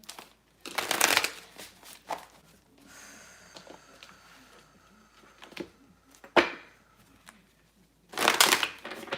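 Tarot Sutra cards are shuffled in several loud, rushing riffles that come in separate bursts, with soft handling noises and faint breathing in the quieter stretches between them.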